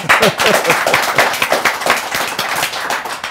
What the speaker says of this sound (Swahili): Wapi makofi ya CEO?